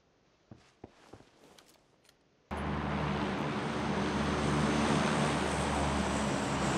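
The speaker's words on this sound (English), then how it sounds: "Okay, plane, you need to fucking stop." An airplane roars loudly overhead in PUBG, rising suddenly after a few soft footsteps and knocks, then holding as a dense, constant engine drone to the end.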